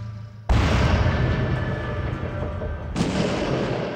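Artillery fire in the strategy video game Epic 40000 Final Liberation: two loud, booming shots, the first starting sharply and rumbling on, the second hitting about two and a half seconds later over the lingering roar, with no talking.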